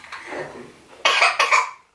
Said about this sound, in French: Il a une toux qui ne passe pas.